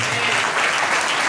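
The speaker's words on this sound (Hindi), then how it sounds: "जोरदार ताली बजा दो।" A church congregation claps loudly and continuously, a dense burst of applause that fills the whole moment.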